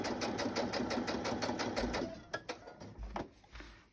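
A sewing machine stitches through a brown paper bag with a longer, wonky stitch, fast rhythmic needle clatter close up for two seconds, then stopping and starting in short bursts with clunks as the paper is turned.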